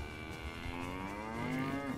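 Cattle in the video game DayZ moo loudly in a long, drawn-out call with a rising, wavering tone, sounding close and clear over a steady game background.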